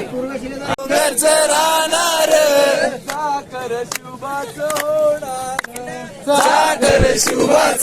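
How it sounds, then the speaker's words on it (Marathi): A crowd gathered on the Kalsubai peak summit, Maharashtra's highest point, at sunrise. Many voices shout and chant in loud, overlapping bursts that rise and fall close by, with people talking throughout. "किती गर्दी बघा तुम्ही सनराईज बघायसाठी"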